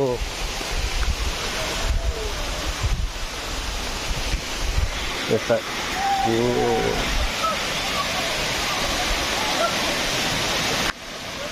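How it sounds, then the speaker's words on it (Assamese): Water rushes in a steady, loud roar at Chimadare Waterfall, with wind buffeting the microphone and a person talking throughout. "কি ধুনীয়া লাগছে ফ্ৰেণ্ডছ পানীৰ শব্দ"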